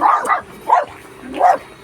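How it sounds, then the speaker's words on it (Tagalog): A dog barks outdoors, giving several loud, close yelping barks in quick succession with short pauses between them, the yips rising and falling. "Yan, kumakahol."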